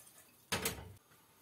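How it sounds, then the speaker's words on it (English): Water poured into a pan of tomato soup with onions, tomatoes and butter, a single short splash and hiss lasting about half a second, close and fairly loud against quiet kitchen background. "A little bit of water."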